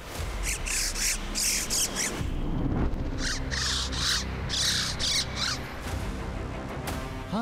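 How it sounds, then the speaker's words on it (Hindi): Harsh, raspy bird calls repeat in bursts, loud and near, across the open, windy air of a lake at about 16,000 feet, with a steady rushing noise underneath. "हाँ, ये तो किसी चिड़िया की आवाज जैसी थी"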